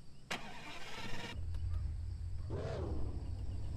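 In Car For Sale Simulator, a car engine cranks and fires up with a sharp starter burst, then settles into a low, steady idle rumble that swells as the car begins moving.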